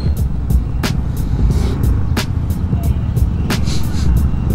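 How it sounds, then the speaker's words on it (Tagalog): Road traffic passes outside a primary school on the first day of classes in Solano, Nueva Vizcaya, with a steady low rumble of cars and occasional brief brake or horn-like bursts. "It's traffic."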